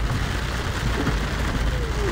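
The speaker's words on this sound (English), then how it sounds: "it has started raining among the" Rain falls over a tea garden in the hills near Coonoor, a dense continuous patter under a low rumble, with faint voices in the background.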